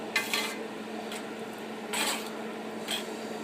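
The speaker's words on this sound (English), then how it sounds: "We stir that in." Pasta water being stirred into Bolognese sauce in a pan, with a few soft utensil scrapes and light clinks against the pan over a quiet background, close and unaccompanied by talk.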